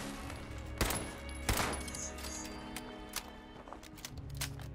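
Gunfire in Fallout 76, a few sharp close shots in quick succession early on, followed by quieter scattered pops and footsteps under game ambience.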